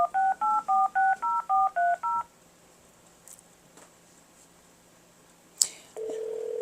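A telephone keypad dials out a run of about ten crisp, evenly spaced touch-tones, then falls quiet with faint background noise before a click and a steady ringback tone begin.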